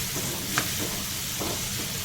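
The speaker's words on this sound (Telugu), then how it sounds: "ఒక 2 నిమిషాల దాకా ఈ రొయ్యలు నూనెలో ఇంకా ఫ్రై చేద్దాం" Prawns frying in oil for a curry with dried prawns and cucumber, giving a steady, close sizzle with faint stirring clicks and a single sharper tap partway through, no voices.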